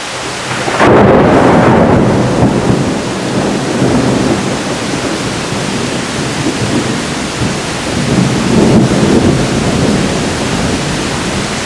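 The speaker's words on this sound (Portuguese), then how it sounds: "olha, tá chovendo mesmo" A sudden rainstorm: loud, steady rain pours throughout, and heavy rolling thunder swells near the start and again toward the end, with no voices.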